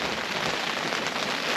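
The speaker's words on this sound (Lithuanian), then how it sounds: "Lietaus nerodo jokią orų programėlę, bet lyja." Light rain falling at a carp-fishing spot, a dense steady patter of drops close by, continuous and even for under two seconds with no voices.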